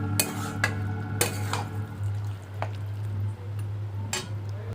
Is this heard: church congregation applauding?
no